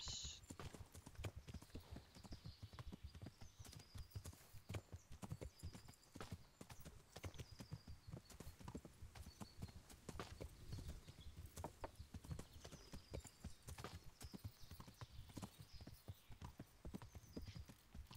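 Rapid, continuous hoofbeats of a galloping horse in the video game Kingdom Come: Deliverance, even and steady throughout, with faint talking in the background.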